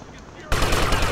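Rapid game gunfire from GTA Vice City Stories bursts in suddenly halfway through, loud, dense and continuous after a quieter opening stretch.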